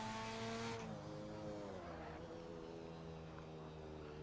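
A rotary-engined Group C touring car in Assetto Corsa revs hard in second gear, its engine a buzzing, rising whine that drops as a shift comes through, then holds at a steady high drone.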